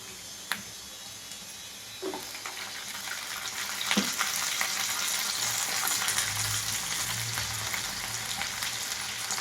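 Sweet potato sizzles with onions and curry leaves in a pan. A few clinks come first, then the frying hiss swells and holds steady, close and alone without talk.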